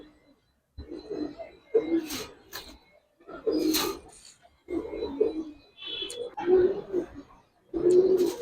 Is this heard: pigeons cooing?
yes